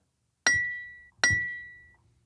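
A raw sample of a struck metal spade played from a keyboard: two separate bright, ringing metallic clanks, each with a sharp attack and a clear tone that fades over about half a second.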